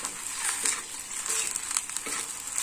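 Goat brain and egg fry are stirred gently in a pan, giving a soft, close sizzle. Light scraping and squishing strokes come and go in an uneven rhythm.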